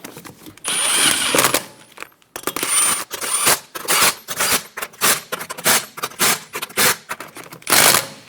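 A power tool snugs down the lug nuts on a 2012–2020 Chevrolet Sonic wheel with a series of short, loud, close whirring bursts separated by brief pauses.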